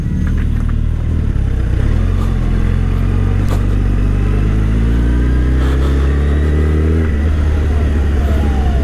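Suzuki Hayabusa superbike fitted with an Akrapovic exhaust rides through city streets, a loud continuous engine drone with rising revs and gear changes, the exhaust note steady and close throughout.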